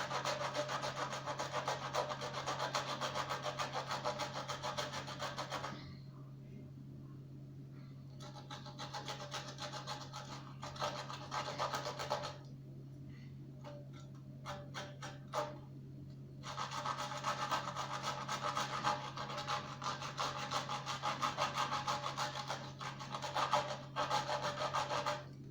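Garlic or lemon is grated by hand for grilled lemon garlic chicken, a close, steady rasping scrape in long runs of rapid strokes with two brief pauses and a constant low hum underneath.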